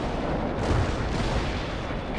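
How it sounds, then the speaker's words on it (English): Battle gunfire and artillery in the strategy game World in Conflict: Soviet Assault, heard as a dense, continuous rumble of shots and blasts that stays loud throughout, with no speech over it. "They're under fire."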